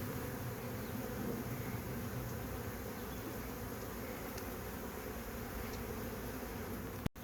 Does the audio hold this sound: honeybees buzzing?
yes